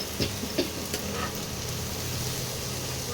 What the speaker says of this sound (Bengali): এইবারে এই মশলাটাকে ভালো করে মিশিয়ে নিয়ে মাছটা দেব।